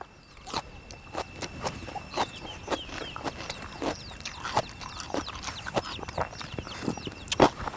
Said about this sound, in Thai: มีแต่เสียงนก เสียงนกเสียงไก่